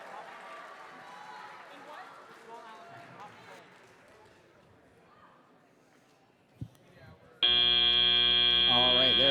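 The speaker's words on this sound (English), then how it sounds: "There's our timer saying it's time to play this match." At a FIRST Tech Challenge robotics qualifier, a loud steady match-start timer buzzer cuts in abruptly and holds. Before it, crowd noise and voices fill a gym, followed by a sharp bang.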